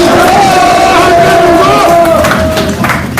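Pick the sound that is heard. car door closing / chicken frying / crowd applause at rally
crowd applause at rally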